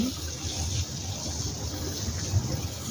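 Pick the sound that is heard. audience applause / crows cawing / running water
running water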